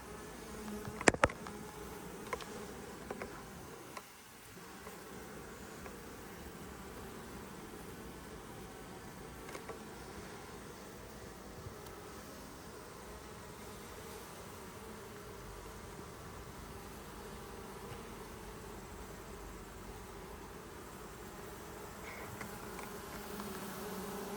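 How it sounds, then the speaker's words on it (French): Honeybees buzz softly during a hive inspection in August, a continuous, faint, close-up swarm drone with a few small knocks early on. "Ça, si c'est pas des abeilles douces"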